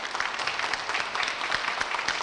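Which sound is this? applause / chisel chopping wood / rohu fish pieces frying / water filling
applause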